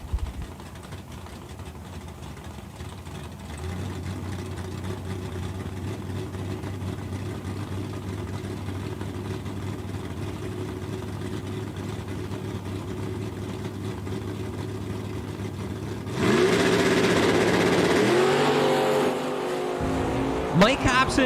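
Dragster race cars at a bracket drag strip hold a steady low idle rumble for many seconds, then one revs into a loud rising roar before dropping back.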